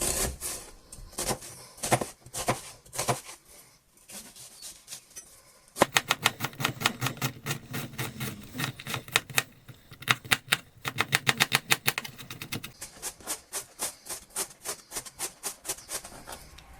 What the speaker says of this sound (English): I'm going to chop half this onion up as well.